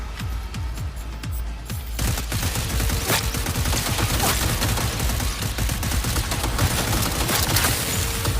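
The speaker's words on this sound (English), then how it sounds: "Heavy artillery!" Rapid, dense bursts of heavy gunfire and explosive shots in a Cyberpunk 2077 combat scene, loud and continuous, with sharp cracks and booms piling over one another for several seconds.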